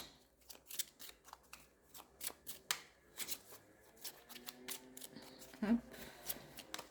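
Tarot cards being shuffled and drawn by hand: quiet, rapid riffling and flicking of cards in irregular bursts, close up, with a brief soft voice near the end.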